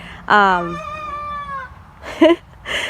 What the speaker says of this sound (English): You hear a rooster coming into his little call?